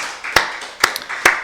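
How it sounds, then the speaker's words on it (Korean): A church congregation claps in praise during a Wednesday worship service, three sharp, loud, evenly spaced claps over a faint room hum. "우리 살아계신 하나님께 박수 영광 드리겠습니다"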